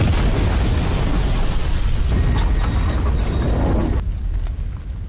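A car bomb detonates in a film scene, a dense, continuous rumbling blast roar that holds loud for several seconds, shifts character midway, then thins out and fades near the end.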